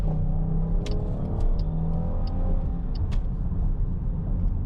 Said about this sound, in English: if we switch it to lower levels, that makes it redline a bit harder, and we step on it